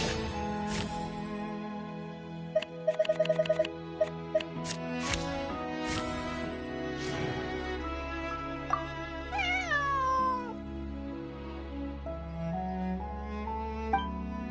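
Bonnie the cat in Genshin Impact gives a rising meow, heard alone over soft game music, with a few chimes and plucked notes around it and no talking.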